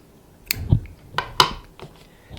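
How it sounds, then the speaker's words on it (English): Scissors snip through sewing thread, about two arm lengths of 16 or 35 weight, making a few sharp, close clicks and cuts spaced across a couple of seconds in a quiet room. "Cut that off."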